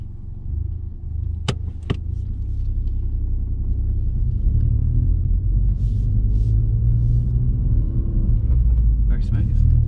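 A car drives along a road during a driving lesson, its engine and tyre rumble steady and close inside the cabin, with a couple of sharp clicks early on and people talking over it.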